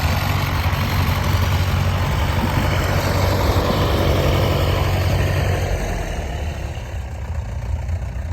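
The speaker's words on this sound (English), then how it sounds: "There's tractors driving about here everywhere, coming in back from the ring." Vintage tractors driving around at a steam and vintage rally, a steady low engine drone from nearby machines, continuous and fairly loud with no talk.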